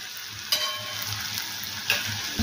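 Tomatoes sauté in hot oil in a pan for a spiced matki dal vegetable, giving a steady close sizzle with a few louder stirring clatters and no talking.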